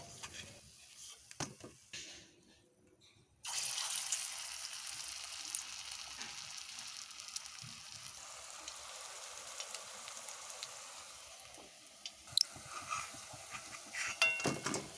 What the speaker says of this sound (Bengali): লম্বা লম্বা করে কোপ্তাগুলো দিয়ে ভেজে নেবো